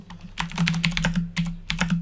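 Rapid typing on a computer keyboard while writing a Word document, a close, loud run of keystrokes in bursts with a brief pause, over a steady low hum and no speech.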